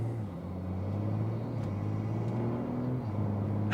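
A BMW 340i with an XHP Stage 3 tune drives in Sport mode, a steady, moderately quiet cabin engine drone rising in pitch, with a brief dip around a gear shift.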